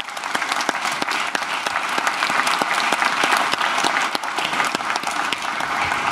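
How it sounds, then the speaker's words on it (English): A conference audience applauds panel members at the close of a carbon pricing session during a climate week, a dense, steady wash of many hands clapping throughout with sharp individual claps standing out. "we close this panel here by giving a warm applause to"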